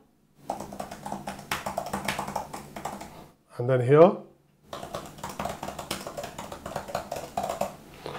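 Quick, light keystrokes clatter on a compact iPad keyboard in two bursts, interrupted briefly by a voice speaking in between.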